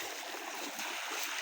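River water flows after rain in a wild river, a continuous broadband rushing hiss that is fairly faint and steady, with no voices.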